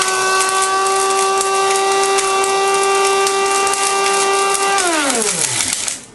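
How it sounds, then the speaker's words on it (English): A small coffee grinder whirs loudly as it grinds dried canned pumpkin, holding a steady high motor whine for several seconds before the blades wind down to a stop. "I put it in my little coffee grinder right here"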